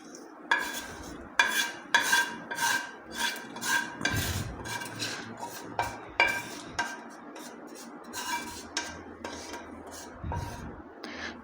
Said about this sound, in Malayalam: ഇനി ഞാനിത് ഈ തൈരിലേക്ക് ചേർക്കുകയാണ്.